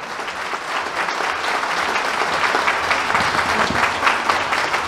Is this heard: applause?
yes